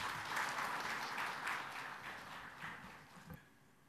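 Audience applause at an Eid Milan event in Hyderabad, a dense wash of many hands clapping that holds steady and then gradually thins and fades over several seconds, with no talk.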